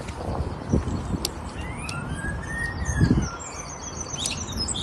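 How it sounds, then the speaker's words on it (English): Birds chirp and whistle among trees, with rising and falling siren-like calls drawn out over a steady outdoor background hum. "It's birds in the trees mimicking the sirens."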